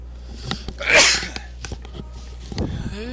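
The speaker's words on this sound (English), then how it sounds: "I'm gonna sneeze, I think." A single loud sneeze from a person playing a video game, one sharp burst near the start followed by quiet breathing and faint game sounds.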